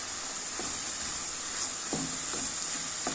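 Bell peppers and onions frying together in a pan: a steady, soft sizzle with a few faint clinks of stirring, alone without talk.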